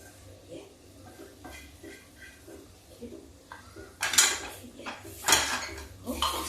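Masala being roasted and stirred in a kadhai for a village-style matar nimona, with a spoon scraping and clanking against the metal in bursts, growing louder toward the end, over a soft background.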